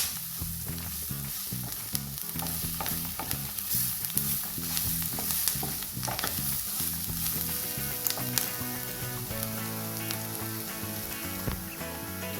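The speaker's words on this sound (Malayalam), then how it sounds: "നമ്മളതിലേക്ക് ബീഫ് ഇട്ട് കൊടുക്കുകയാണ്. നന്നായിട്ട് ഇളക്കി യോജിപ്പിച്ച്" Boiled beef and coconut pieces frying in a pan for a Kerala-style beef fry, a continuous dense sizzle with repeated stirring scrapes throughout, close and steady, with no speech.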